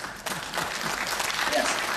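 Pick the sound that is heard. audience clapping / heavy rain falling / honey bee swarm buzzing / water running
audience clapping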